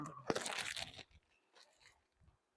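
Someone eating bamboo shoot soup with fresh raw vegetables and sticky rice, a close loud crunching bite followed by a few soft chewing sounds, no talking.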